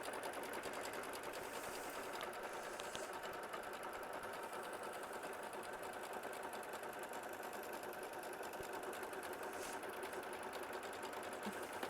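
An embroidery machine stitches steadily onto stabilizer held in a hoop, a continuous close mechanical whir with a fast even needle rhythm running without pause and no voices.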